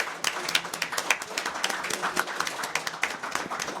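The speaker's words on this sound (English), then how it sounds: "Can I get a round of applause for the people that was here earlier?" A smaller audience at a renter protections session claps for earlier speakers, individual claps distinct and irregular, medium loudness, a sparse patter rather than a dense roar.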